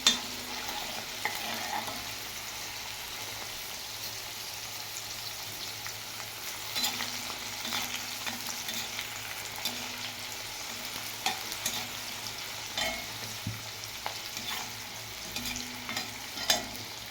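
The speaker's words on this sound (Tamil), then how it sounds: "சுண்டக்காய் வந்து நல்ல ஒரு பொன்னிறமான கலரில் வந்துருச்சு அதுக்கடுத்து வந்து இந்த பூண்டு நல்ல பொன்னிறமாக வருது" Garlic and turkey berries fry in oil for vatha kuzhambu, a steady close sizzle running the whole time with occasional stirring scrapes and light clinks, no talking.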